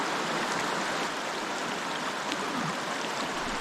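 A mountain stream in the Smoky Mountains rushes steadily in a broad, even hiss of flowing water, close and continuous, with no voices.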